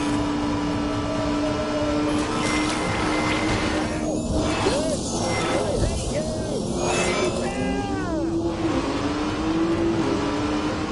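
A car engine revving hard at full throttle, a loud, sustained roar with shifting pitch, with voices speaking over it.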